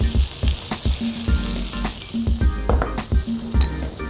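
Shallots and butter sizzle loudly in a hot pan as a sauce is started, a constant bright hiss with bursts of bubbling and the scrape of stirring, close and continuous.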